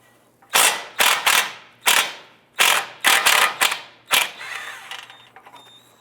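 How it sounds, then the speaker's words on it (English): A ratchet working loose the tie rod nut on a Honda Civic, a series of loud, close, rapid clicking bursts in quick strokes, then fainter spinning clicks as the nut comes free, with no talking. "Next, we're going to go ahead and remove this nut right here."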